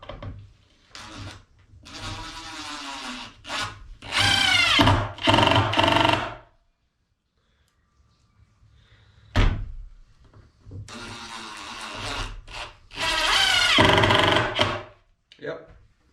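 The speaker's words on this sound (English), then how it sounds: "Driving those little screws" A Craftsman brushless impact driver, set to speed 1, drives small screws into wood. It gives several short whirring bursts separated by pauses, with someone talking between them.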